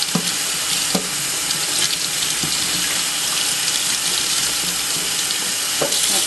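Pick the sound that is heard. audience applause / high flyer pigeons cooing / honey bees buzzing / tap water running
tap water running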